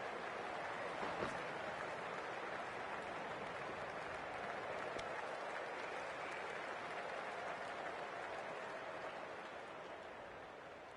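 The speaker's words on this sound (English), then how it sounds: "A round of applause." Steady crowd applause from a stadium in the Cricket24 video game during a T20 World Championship match between Zimbabwe and New Zealand, a dense continuous clapping wash that holds evenly and eases slightly toward the end.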